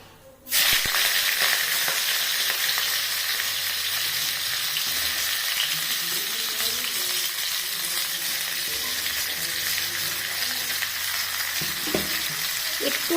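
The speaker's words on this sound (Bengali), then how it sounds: "আমি ফুলকপিটাকে একটু সুন্দর করে ভেজে নিচ্ছি।" Cauliflower pieces go into hot oil in a wok with a little turmeric and salt, setting off a sudden loud sizzle that settles into a steady close crackling hiss with faint stirring and no talking.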